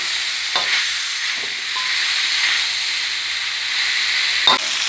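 Shark fish and sliced white turmeric stir-fry in a hot pan, giving off a loud, steady sizzle with occasional scraping and clanking from the utensil, and no talking.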